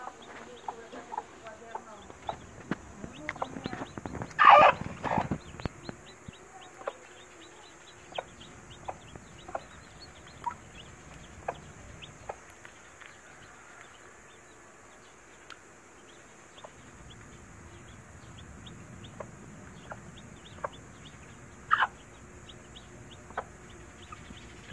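Hens clucking around a newly hatching chick on a backyard chicken-raising setup, scattered short clucks and chirps with one louder burst near the middle, plus faint rustling and low background noise.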